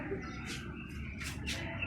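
Sparrows chirp around their nests in a guava tree, with several short, bright bursts of calls coming and going over a steady low background rumble.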